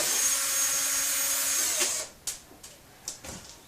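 A cordless drill runs steadily at close range for about two seconds, then stops, leaving a few sharp clicks and knocks as a plastic device is taken apart.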